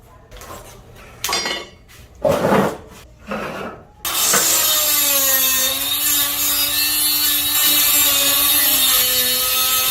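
A few handling clunks and scrapes lead into a cutoff tool slicing a closet door's metal top track, a loud continuous high-pitched whine and grind with a steady droning pitch.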